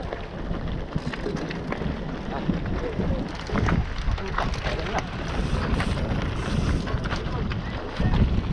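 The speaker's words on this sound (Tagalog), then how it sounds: "Lakas na hangin." Strong wind buffets the microphone on a MegaDrop ride in a continuous, rough roar, with gusts swelling and fading throughout and no clear voices.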